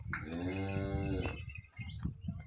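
A pregnant cow gives one long, loud low moo close by, followed by quieter shuffling and background noise.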